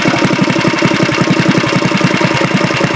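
A small mini bike engine idles close by, loud and steady, with a fast, even putter of firing pulses throughout.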